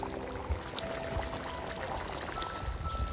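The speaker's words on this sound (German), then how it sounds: "füllen wir das Ganze noch mindestens mit einem halben Liter Wasser auf" Water poured into a pan of Spanish-style farmhouse stew of pot meat simmering in tomato broth, a steady near pour with a soft streaming splash running throughout, no voices.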